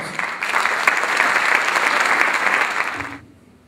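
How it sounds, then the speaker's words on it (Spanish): A crowd at a tribute to a composer breaks into strong, dense applause that holds steady for about three seconds and then cuts off abruptly into near silence. "para quien pido un fuerte aplauso."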